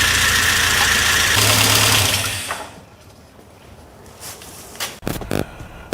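A 1992 Saab 900 Turbo engine cranks and runs after the key is turned, a loud steady mechanical drone for about two seconds that then cuts off, leaving a few faint clicks and knocks.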